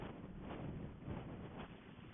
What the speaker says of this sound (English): Hopefully it's not as windy tomorrow.